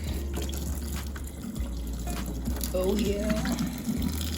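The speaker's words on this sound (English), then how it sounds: "Okay, so my potatoes are ready to be drained." Boiled potato water draining from a pot into a kitchen sink, a steady close rush of pouring water with a brief spoken remark over it.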